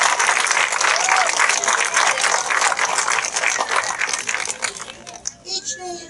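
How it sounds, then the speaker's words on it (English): An outdoor crowd at a children's time-traveler parade at a liberty camp bursts into loud applause that tapers off, leaving scattered claps, rustling and children's voices nearby. "Please give him a round of applause."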